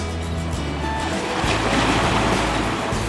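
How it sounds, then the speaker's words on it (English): Sea waves breaking on a beach in Varna, Bulgaria, a continuous loud wash of surf with a swelling roar in the middle, heard alone without talk. "It is so easy to get lost staring at these waves."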